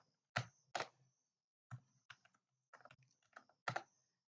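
Keystrokes on a computer keyboard as HTML code is typed, arriving as short clustered bursts of clicks with brief pauses between them, close and fairly quiet.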